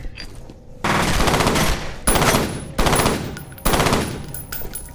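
Bursts of rapid gunfire from the first-person shooter video game F.E.A.R., loud and close, with sustained automatic fire followed by three sharp repeated volleys, no talking.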